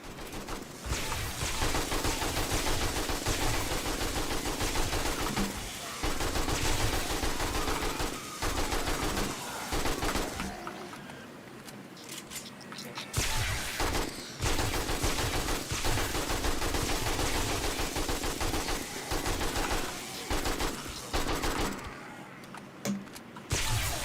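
Sustained automatic gunfire in the zombie survival video game 7 Days to Die, loud dense bursts of rapid shots firing almost continuously with brief pauses, no talking over it.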